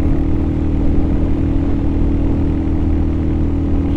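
A Royal Enfield Hunter 350 motorcycle, fitted with a 16-tooth sprocket, holds a steady, loud engine drone at speed with a constant low hum and broad wind roar, building gradually, with no voices over it.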